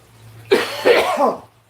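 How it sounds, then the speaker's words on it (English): A few harsh, chesty coughs in quick succession, close and loud, followed by a rough throat-clearing rasp. "Coughing up a lung here."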